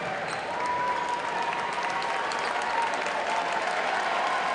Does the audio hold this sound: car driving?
no